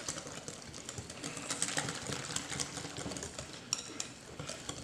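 Sweet potato pie filling being stirred with sweetened condensed milk, soft irregular scraping and clinking of a utensil against a bowl, close and fairly quiet with occasional sharper knocks.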